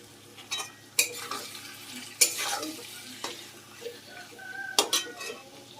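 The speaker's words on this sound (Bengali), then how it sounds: "মাংসটাকে কিন্তু এবার একটু সময় ধরে মিডিয়াম টু লো ফ্লেমে ভালোভাবে কষিয়ে নেব" Lamb meat sizzles softly in a pot over a medium-low flame while a spoon stirs it, with sharp scrapes and clinks against the pot every second or so.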